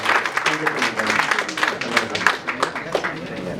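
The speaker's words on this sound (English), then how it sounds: "I want to make sure we give a round of applause to Pinal Ben" An audience applauds at a community association gathering with a dense patter of clapping throughout, while voices murmur faintly underneath.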